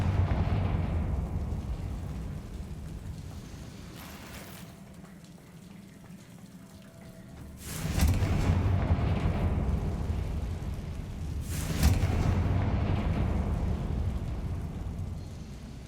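A Confringo blasting spell goes off in Hogwarts Legacy, giving broad rumbling bursts that swell around the middle and again near the end over a low, steady background, with no talking.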